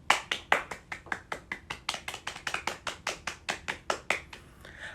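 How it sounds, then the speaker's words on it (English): Rhythmic hand clapping at a theater festival, about twenty sharp, evenly spaced claps close by, crisp and fairly quiet, with no talking over them. "Let's give them a round of applause"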